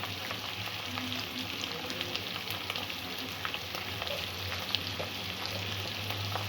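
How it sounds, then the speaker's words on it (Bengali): Spice paste with turmeric frying in hot oil for a sweet potato curry, a steady close sizzle and crackle with faint stirring scrapes, no voices. "বাটাটা দিয়ে দেবো 1 চামচ।"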